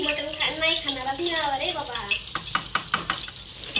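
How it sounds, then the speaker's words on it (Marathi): Fish fries in a pan with a steady hiss; a voice is heard briefly at first, then a few sharp utensil clicks follow. "हे बघा इकडं फ्राय चालू आहे"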